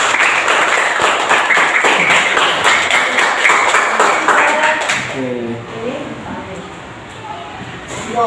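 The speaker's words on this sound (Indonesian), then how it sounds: "kita kasih tepuk tangan yang beri" Audience applause following a student's final project presentation on an educational game, dense clapping filling the first five seconds before fading into quieter talk.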